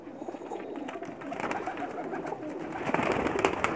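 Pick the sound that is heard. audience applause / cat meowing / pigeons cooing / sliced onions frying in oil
pigeons cooing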